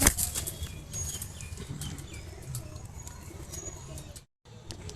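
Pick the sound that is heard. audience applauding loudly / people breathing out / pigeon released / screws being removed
pigeon released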